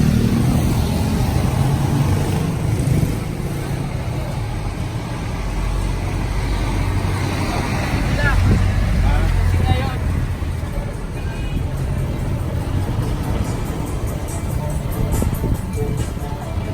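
Riding in a tuk-tuk through city traffic in Quezon City, a loud continuous engine drone and road rumble with passing vehicles, under frequent talking.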